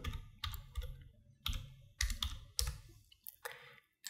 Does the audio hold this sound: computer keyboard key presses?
yes